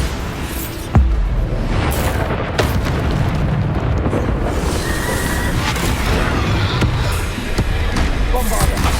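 A Bombarda spell explosion in the Hogwarts Legacy video game on PS5, a sudden loud boom followed by rumbling battle noise and further sharp impacts amid continuous combat sounds, with voices calling out spells.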